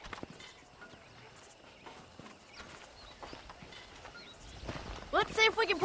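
Horse hooves clip-clopping at a walking pace in Red Dead Redemption, soft and rhythmic under frequent speaking voices, with faint birdsong and a brief whinny-like call near the end.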